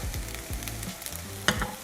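Fried rice sizzles and crackles in a hot pan, seasoned with soy sauce and pepper for a Chinese-style nasi goreng with chop suey, with steady close frying and a few stirring scrapes and clatters throughout.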